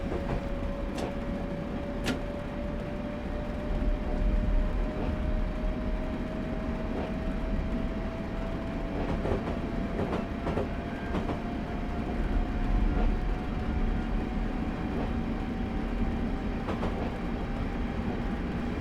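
A video-game train's engine tone in Train Simulator 2015, Sheerness to Sittingbourne route, slowly rises in pitch as it gains speed, with steady rumbling and occasional clicks along the track.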